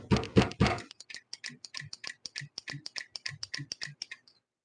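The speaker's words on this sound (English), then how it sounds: "The fan's going. I can hear it clicking." A computer fan clicks in a quick, fairly regular series of small ticks. The ticks are close and distinct, and a short burst of louder noise comes before them.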